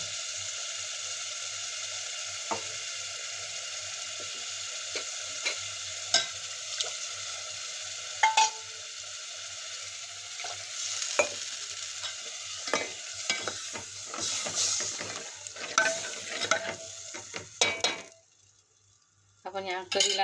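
Ground chana dal flour is stirred into a pan of spicy egg curry as it fries, with a soft continuous sizzle and scattered spoon scrapes and clinks against the pot. Near the end the sound drops out briefly.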